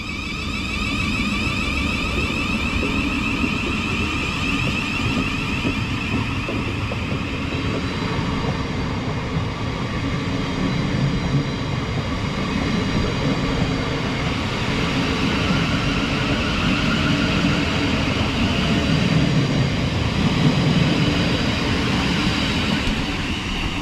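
A Thameslink Class 700 electric train pulls out of a West Sussex station platform, a steady loud rumble and rolling wheel noise with a faint whine, holding level throughout with no talk.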